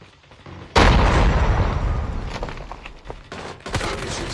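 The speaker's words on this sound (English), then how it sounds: "Grenade out." A grenade explodes in a multiplayer clan-war video game, a sudden loud boom followed by a long rumbling roar, with further bursts and pops trailing off near the end.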